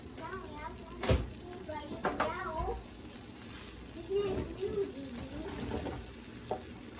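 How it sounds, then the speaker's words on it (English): Asparagus and garlic fry in a pan with a low, steady sizzle and occasional stirring clatter, heard close up beneath a person talking throughout. "So now that the asparagus is starting to cook, I'm going to season it up and add some garlic."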